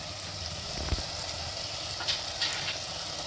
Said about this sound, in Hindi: इनको अच्छी तरह से मसालों को 1-2 मिनट भून लेते हैं